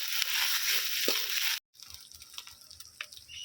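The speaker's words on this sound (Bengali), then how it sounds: "আদাটাও আমি একটু ভালো করে তেল মশলার সঙ্গে কষিয়ে নেবো যাতে না কাঁচা গন্ধটা না থাকে" Ginger paste fries in hot oil with spices for veg momo filling, a bright steady sizzle that breaks off suddenly, then returns as a quieter crackle with scattered pops and stirring clicks, near and without speech.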